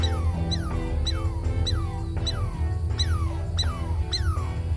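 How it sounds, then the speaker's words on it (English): A young mongoose gives repeated alarm calls at a cobra, a run of about seven sharp, squeaky yelps, each sliding downward in pitch, spaced roughly evenly over a steady low background rumble. "The young female sounds the alarm to mobilize the clan."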